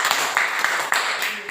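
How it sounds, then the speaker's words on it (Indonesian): A classroom of students claps for the first group, a short burst of uneven hand claps with a few sharper individual smacks standing out near the listener. "Tepuk tangan untuk kelompok 1."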